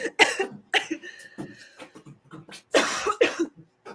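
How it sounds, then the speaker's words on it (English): Several harsh coughs in bursts, close and fairly loud, with pauses between and a cluster near the end. "You made my cough come back."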